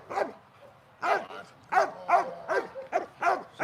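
A trained dog barks on command in a series of sharp, close barks, about eight in quick irregular succession with short pauses between.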